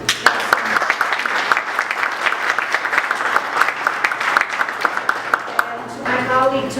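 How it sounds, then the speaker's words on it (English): A room of people at a Boy Scouts council gathering gives a round of applause, steady and fairly close, tapering near the end as a voice begins to speak. "you really deserve a round of applause"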